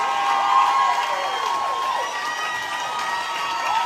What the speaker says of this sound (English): The Texas Democrat was met with overwhelming applause.